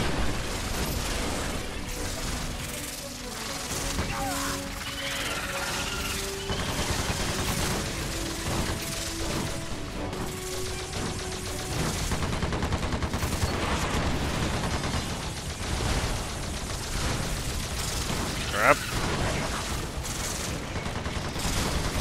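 Player's guns blazing in Earth Defence Force 1, a sustained loud stream of rapid fire and bursts with explosions mixed in, one sharp crack near the end, no voices.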